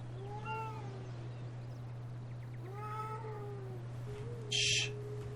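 A house cat meows twice, close and moderately loud, with drawn-out rising and falling calls, over a low steady hum in a quiet room.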